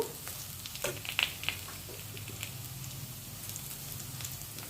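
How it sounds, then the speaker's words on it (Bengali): Onion fries in hot oil in a home kitchen pan, giving a soft, steady sizzle with a few sharper crackles and pops early on. The sound is faint and close, with no talking. "এই পেঁয়াজ ভাজছি।"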